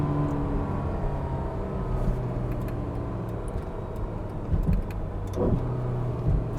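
Ferrari supercar driving on a bumpy road, a steady engine drone inside the car with brief rising blips and surges as it downshifts, no talking.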